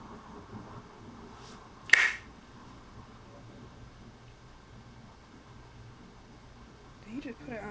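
One sharp, crisp finger snap sounds in the video game Telling Lies, standing out briefly over a faint, steady background hum.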